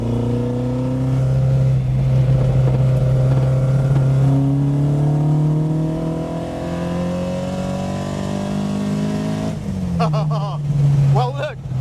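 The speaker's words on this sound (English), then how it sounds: "it is a racing car and it very much feels like one" An Alfa Romeo GTAm racing car drives along twisting roads, its engine droning steadily throughout with pitch rising and falling through gear changes, then a sharp rev burst near the end; a voice talks over it.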